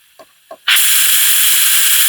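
Steam hissing from the injectors of a Rapido fireless locomotive model, beginning abruptly after two faint clicks and holding as a loud, steady, broadband hiss.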